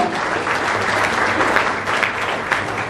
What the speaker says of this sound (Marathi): या सगळ्यांसाठी माझ्या वतीने एकदा जोरदार टाळ्या वाजवा.